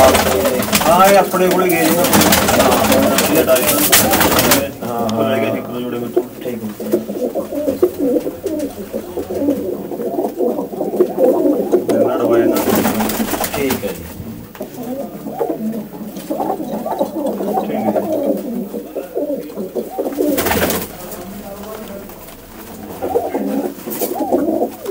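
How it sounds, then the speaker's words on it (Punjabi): Pigeons in a fancier's loft coo steadily and close by, a dense, rolling murmur of many birds that runs throughout, with people talking over it at times and brief louder bursts of noise. "ਕਿਹੜੇ ਕਬੂਤਰ ਹੈ ਜੀ ਜਿਹੜੇ ਤੁਸੀਂ ਹੁਣ ਆਪਾਂ ਨੂੰ ਵਿਖਾ ਰਹੇ ਹੋ?"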